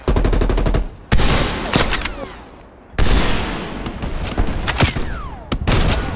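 Rapid automatic gunfire in Call of Duty Black Ops Cold War, loud and close, with dense bursts broken by brief pauses and sharp individual shots over a roaring battle background.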